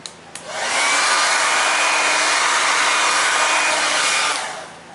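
Hot air gun blowing across wet epoxy resin to push ocean-wave cells, a steady loud whooshing blast that starts after a brief click and runs continuously before cutting off.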